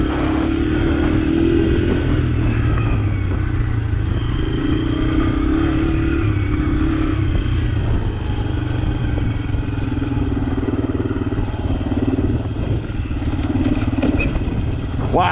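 A Yamaha TTR dirt bike on a trail gives a loud, continuous engine drone with some rumble and clatter that shifts a little in pitch throughout. The sound is close and steady, with no talk over it.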